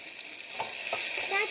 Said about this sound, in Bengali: ভেন্ডিটা লাল লাল করে ভেজে নিয়েছি